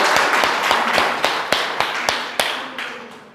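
Audience at a school result celebration for class 10 and 12 arts students clapping for Rakesh Sharma, a string of sharp, fairly sparse claps that thin out toward the end.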